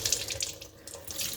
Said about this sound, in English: So I'm just going to put this in and run some warm water over it